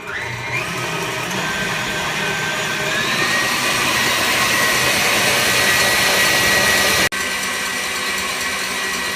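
An electric stand mixer whips hot syrup buttercream mixture, a loud continuous high whirring motor drone that holds steady, then cuts out abruptly near the end and resumes.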